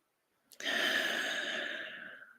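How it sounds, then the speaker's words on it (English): One long, soft, deep breath drawn close to the microphone, rising quickly and then slowly fading over about two seconds, heard alone in a quiet room. "Soft, deep breathing."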